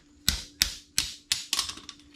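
A tool repeatedly taps on the metal of a BC coilover suspension coil on an SRT4. There are six sharp, close metallic knocks at a steady pace, each with a brief ringing tail.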